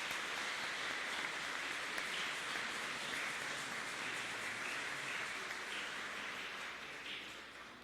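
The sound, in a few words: applause for the church choir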